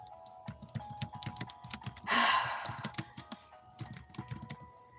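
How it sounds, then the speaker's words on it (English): Keys clatter on a computer keyboard in quick, uneven bursts of clicks, close and fairly quiet, with a brief louder rustle partway through. "I'm typing the title."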